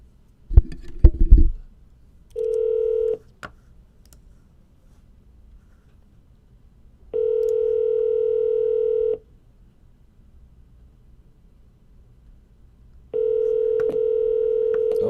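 A phone call goes out: a brief burst of handling and dialing noise, then three long electronic ringback tones spaced several seconds apart, clear and close, with near silence between them.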